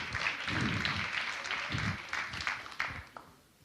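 Audience applause at a Latvian event-industry awards ceremony, a steady wash of clapping that swells and then thins out toward the end, with faint voices mixed in.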